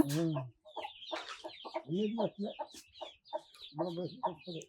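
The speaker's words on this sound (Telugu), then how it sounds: "కోళ్ళు వాటిని గింజలను అయితే తినడానికి వచ్చినాయి ఫ్రెండ్స్ చూస్తున్నారు కదా" Free-range country chickens cluck and chatter in quick, irregular bursts while pecking at scattered grains, close and fairly clear, with several birds calling over one another and no talking.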